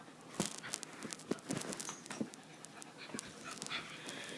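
A dog pants close by in quick, ragged breaths, broken by scattered sharp clicks and shuffling, with no talking.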